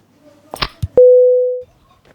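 A phone line goes to a busy tone right after a call is hung up: a few soft clicks and handling knocks, then one loud, steady tone that holds for about two-thirds of a second and cuts off.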